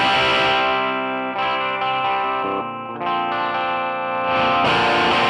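An electric guitar plays through a MESA/Boogie amp plugin in AmpliTube, with a pushed, overdriven tone. Thick sustained chords ring loud and continuous with slight modulation shimmer, and no talking is heard.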